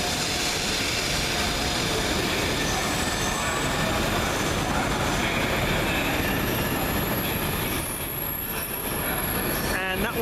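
A train arrives at Carlisle station to terminate, running loud and close throughout with wheels squealing against the rails and a brief high screech near the end.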